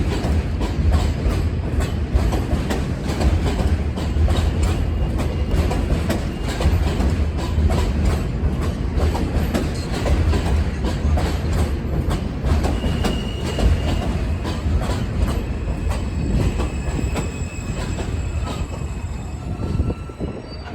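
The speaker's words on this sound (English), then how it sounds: "And this train we're looking at here, this is an R160 car." A New York subway R160 train runs at Neptune Avenue station on the F line, giving a loud, continuous rumble with rhythmic wheel clatter and faint squeals for the whole stretch.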